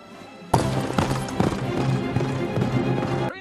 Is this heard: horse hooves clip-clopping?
yes